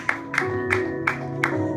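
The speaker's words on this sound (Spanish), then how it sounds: "Regálale un aplauso al Señor, hermano." A church congregation claps in time, five sharp, evenly spaced claps at a brisk beat over sustained musical tones.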